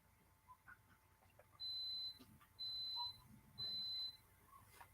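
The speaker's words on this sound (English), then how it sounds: "that just beeped. Did you hear that beep? That was the coffee pot" Three evenly spaced high-pitched electronic beeps, each about half a second long, ring out clearly over a quiet room.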